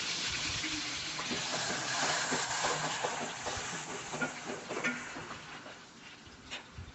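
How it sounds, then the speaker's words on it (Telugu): Spice paste for a Telugu-style fish curry sizzling and frying in hot oil, a steady broadband hiss with crackling pops throughout, close and fairly loud, no voices. "ఇప్పుడు ఆయిల్ హీట్ అయినాక మనం చేసుకున్న పేస్ట్ అంతా ఇందులో యాడ్ చేసుకొని చక్కగా ఫ్రై చేసుకోండి"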